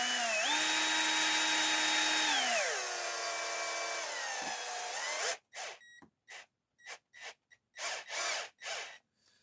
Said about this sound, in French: Cette fois-ci, dans le bon sens pour visser.